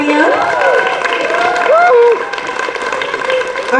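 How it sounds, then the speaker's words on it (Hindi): Audience applauding at a Chandigarh awards and honours ceremony, a dense, steady wash of clapping and crowd noise throughout, with a voice and whistle-like tones riding over it. "जोरदार तालियां।"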